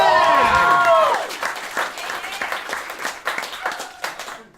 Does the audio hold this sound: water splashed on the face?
no